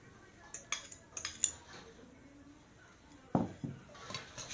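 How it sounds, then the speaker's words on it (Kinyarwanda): A utensil clinks and scrapes against a pan as an egg mixture is stirred with potatoes, carrots, peppers, celery and onions, with light metallic taps in short clusters and a louder scrape later, faint and close, with no voices. "Kuvanga ya magi yanjye na bya birayi na rwa ruvange rwa karoti na poivro na seleri n'ibitunguru."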